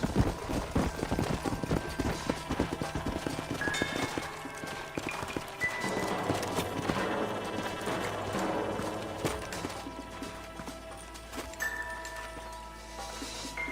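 Galloping horse hooves in the video game Red Dead Redemption, a steady clip-clop of several horses running with game music and ambience underneath, gradually easing off.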